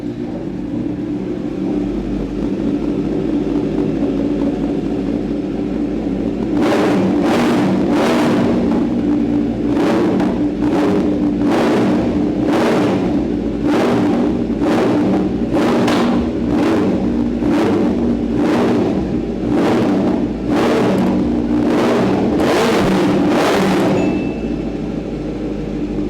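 A Kawasaki Z superbike with a full-system exhaust idles with a deep, steady rumble, then fires off about a dozen sharp, very loud throttle blips in quick succession before settling back to idle.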